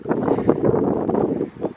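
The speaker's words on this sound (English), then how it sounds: "It's so windy." Gusty wind on a hilltop above Bath, in the rolling Somerset hills, buffets the microphone in uneven low rumbling bursts, loud and close.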